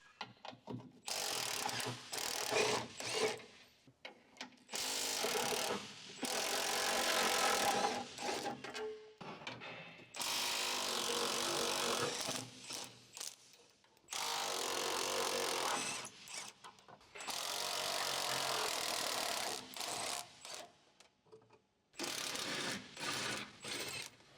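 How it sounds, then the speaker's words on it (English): Electric impact wrench with an 18mm deep socket and extension bar removing fuel tank mounting bolts on a 2011-2018 Jeep Wrangler JK, heard as several loud rattling bursts separated by short pauses. "Using the 18mm deep socket with the extension bar and electric impact wrench, remove the fuel tank mounting bolts one by one."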